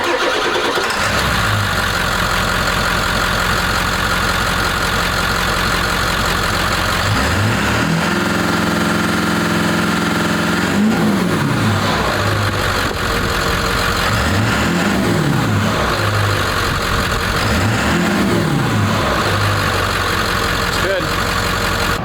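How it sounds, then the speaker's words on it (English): A 7.3L Powerstroke diesel truck engine cranks, catches and settles into a loud, steady idle, then revs up in a few rising and falling surges close by. "And now let's fire up the truck here."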